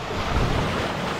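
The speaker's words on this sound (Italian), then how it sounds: "il cielo è pessimo e c'è anche un po' di vento" Gusty wind blowing outdoors beside a camper at Su Maimoni in Sardinia under a poor, overcast sky, a steady broadband rush with a slight swell in the middle and no voices.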